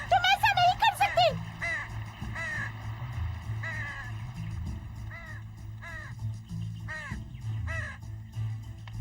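Crows caw repeatedly, harsh calls arriving in short bursts, loud at first then spaced out, over a low background hum.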